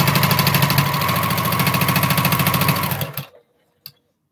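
A sewing machine runs steadily for about three seconds, stitching a postal stamp quilt top with a rapid, even mechanical chatter, then winds down and stops, followed by a single faint click.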